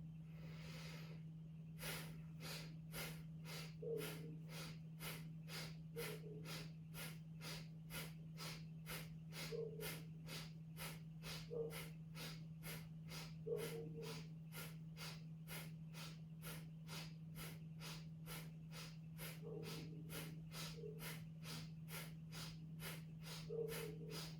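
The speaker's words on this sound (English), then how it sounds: "let's go ahead and begin our last round of Bastrika" Forceful bellows breaths in Bastrika breathing practice, a steady train of sharp rapid nasal inhales and exhales at an even fast rhythm, close and continuous, with a constant low hum underneath.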